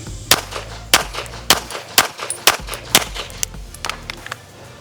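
Pistol shots from a Gibson Custom during draw practice crack out sharply and close by, roughly every half second to one second, about eight shots in all.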